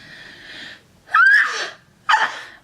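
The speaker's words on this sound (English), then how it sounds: "Hold, please, I have to sneeze" A single sneeze: a drawn-in breath, then a sharp, loud burst, followed by a short second expulsion, close up.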